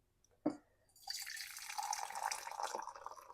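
Freshly boiled water poured into a vessel for brewing kombucha, a single sharp drip or clink followed by a steady, fairly quiet splashing pour lasting a few seconds.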